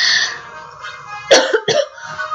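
A man coughs and clears his throat twice in quick succession, close and fairly loud, after a brief stretch of faint voice at the start.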